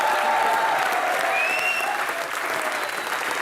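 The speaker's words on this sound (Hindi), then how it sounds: "इसके लिए तो जोरदार तालियां।" Studio audience on an Indian comedy talk show breaks into loud, sustained applause, a dense wash of clapping that holds steady for the whole stretch and eases slightly toward the end, with a faint tone briefly audible over it.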